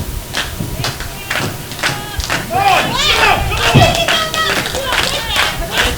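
Wrestling crowd at ringside during an independent show, a dense mix of shouting, chanting voices and scattered claps with a few thuds, loud and close, swelling midway.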